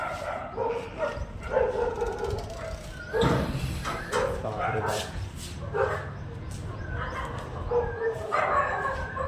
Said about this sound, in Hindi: इतने भौंक रहे हैं भाई अलग।